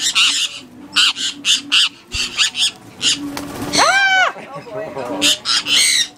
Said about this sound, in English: I had two birds in my hand.